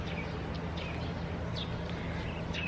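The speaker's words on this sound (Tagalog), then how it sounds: "Tapos mga ibon ang maririnig mo." Birds calling near a quiet countryside house with a swimming pool, a few short chirps scattered over a steady low hum and faint background noise.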